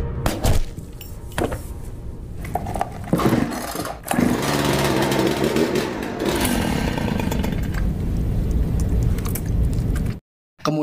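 A loud chainsaw engine revs and roars, rising into a sustained buzzing whine before cutting off abruptly near the end.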